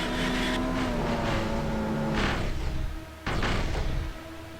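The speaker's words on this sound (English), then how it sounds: "That's a good sound coming from the engine." An Indycar race car engine in the NR2003 racing simulator at Michigan screams at high revs, holding a loud, steady drone through gear changes, with a brief dip near three seconds before roaring back.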